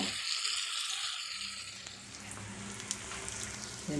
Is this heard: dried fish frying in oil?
yes